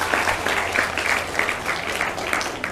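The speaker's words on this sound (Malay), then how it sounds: "Tepukan gemuruh." An audience at a religious lesson by a female teacher applauds, a loud, dense, continuous patter of many hands clapping close by, with no voices on top.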